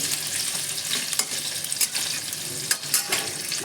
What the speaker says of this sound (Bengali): আগে সামান্য একটু লবণ দিয়ে দিলাম এইভাবে আস্তে আস্তে করে আলুগুলো ভেজে নেব